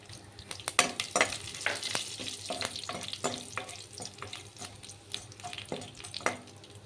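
A tempering of mustard seeds, cumin, a dried red chilli and a sprig of curry leaves fries in hot oil, sputtering in quiet, irregular crackles and pops with soft stirring, no speech.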